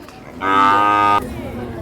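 A single loud, close moo from a Khillar bull at the Sangola cattle market, lasting under a second, with faint background murmur before and after.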